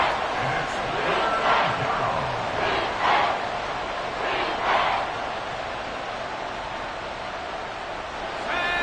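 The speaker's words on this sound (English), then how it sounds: "This crowd turning up the decibel level." A large stadium crowd at an American football game roars steadily on a tense third-and-long late in the game, a dense, loud wall of cheering with a few swells of shouting.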